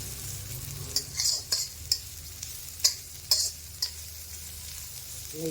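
Curry leaves and garlic dry-roasting in a pan, a faint background hiss broken by a series of distinct scraping stirs and clinks of a spoon against the pan.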